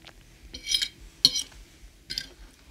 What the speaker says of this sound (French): les bruits des couverts et tout ça.